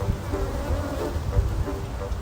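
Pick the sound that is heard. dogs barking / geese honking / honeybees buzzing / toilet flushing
honeybees buzzing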